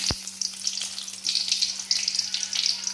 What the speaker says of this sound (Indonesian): Pertama-tama kita masukkan dulu minyak ya, minyak goreng, lalu masukkan bawang bombay